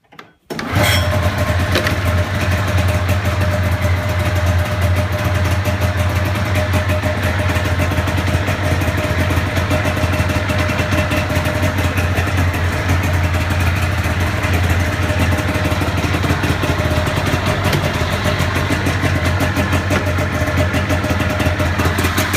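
A 1996 Polaris Indy Lite Deluxe snowmobile engine cranks and catches within a second, then runs loud and steady at a close, even idle with a buzzy two-stroke drone for the rest of the stretch.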